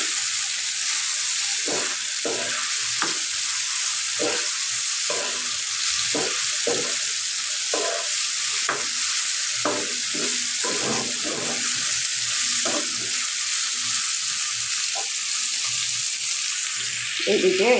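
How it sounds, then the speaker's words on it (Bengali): Chopped tomato fries in a pan, a continuous sizzle punctuated by repeated scraping strokes of a spoon stirring it, close and fairly loud, with no talking. "এই টমেটোটা দিয়ে দিলাম এর মধ্যে। এটা ভালো করে ভাজে দিই।"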